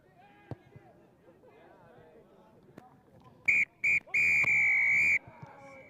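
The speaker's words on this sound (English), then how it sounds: "Full-time whistle goes" At a schoolboy rugby sevens-style tens match, the referee's whistle sounds loud and shrill: two short blasts, then one long sustained blast, after quieter commentary and crowd murmur.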